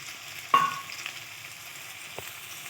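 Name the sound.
marinated prawns frying in oil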